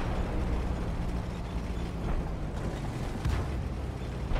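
In a tank video game with the AMX 50 120, a shot strikes an enemy tank's gas tank, heard as a heavy, rumbling low blast over continuous engine and battle noise.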